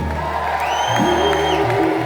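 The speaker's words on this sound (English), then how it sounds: "Can we have a round of applause for the staff of Gorilla?" A concert crowd cheers and whoops in a steady, loud wash of voices, with a few rising shouts standing out above the dense noise.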